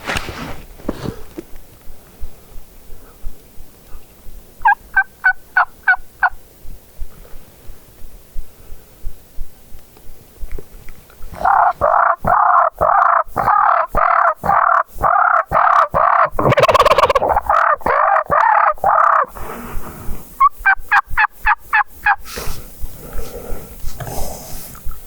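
Wild Merriam's turkeys gobble outdoors in snow, a short gobble early, then long loud bursts of rapid rattling gobbles close by, overlapping and repeating, with a jake strutting among them.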